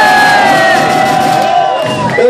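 A large crowd cheers for the DJs, whooping loudly, a sustained roar of voices with shouts rising above it.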